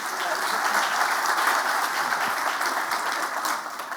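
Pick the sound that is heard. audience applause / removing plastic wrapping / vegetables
audience applause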